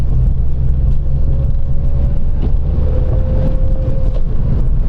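2008 Mazda MX-5 GT NC rear-wheel-drive roadster driven through a snowstorm, a steady engine hum under heavy wind and road rumble, with a faint whine, heard from inside the car.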